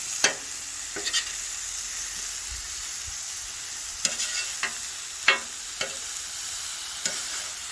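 Shrimp, chorizo and vegetables sizzle steadily on a flat griddle, a continuous frying hiss broken by several sharp scraping clicks of a spatula turning and stirring the food, with no talk.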